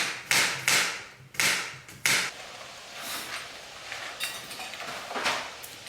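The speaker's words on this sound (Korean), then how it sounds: "일단 양송이 버섯을 썰고 새송이 버섯도 썰어줍니다" A kitchen knife cuts through button and king oyster mushrooms on a board. A few crisp chops stand out early, then softer, quicker slicing follows, close by and with no talk.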